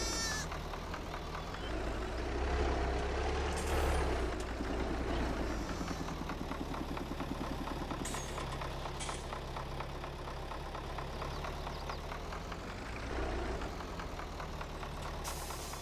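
A tractor engine idles in the farming game Farming Simulator 22, a steady low rumble running throughout with a few brief higher-pitched bursts and bleat-like tones over it, and no speech.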